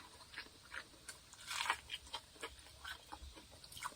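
Crisp crunches and soft chewing from someone biting into air-fried, crusty cheese bread with spinach, heard close up as a run of irregular crackly bites.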